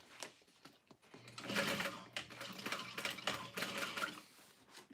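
A sewing machine back stitches over a connector on a handmade bag, running in bursts of rapid close mechanical stitching with brief pauses as the seam pivots.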